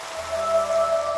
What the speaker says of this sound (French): maintenant c'est la pluie